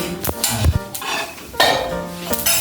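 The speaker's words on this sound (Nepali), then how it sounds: "यो मजाले यो फर्याउनु पर्छ त" Mixed vegetables are stirred in a cooking pan, with a utensil scraping and clinking against the metal in a few irregular strokes over a soft sizzle, close and fairly loud.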